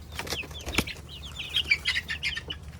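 A chicken on a Florida poultry farm flaps its wings in several quick bursts and gives a few soft clucks and chirps, heard close and fairly clear over a quiet background.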